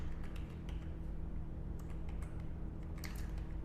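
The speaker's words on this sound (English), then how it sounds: "Just type a prompt like write" Rapid, steady keystrokes on a computer keyboard as a prompt is typed, close and fairly quiet over a constant low hum, with no talking.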